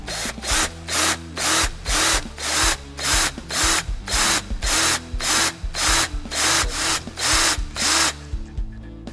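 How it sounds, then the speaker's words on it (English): Power drill boring out the head of a rivet for motorcycle saddlebag lid locks, about fourteen short pulsed bursts of whining drilling in a steady rhythm, close and loud, then silence at the end. "drill out the head."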